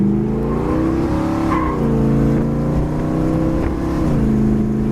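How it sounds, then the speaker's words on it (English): A 1965 Pontiac GTO convertible tribute's engine pulls steadily and loudly while driving, its rising and easing drone heard from inside the car with no talk. "Car runs and drives fantastic."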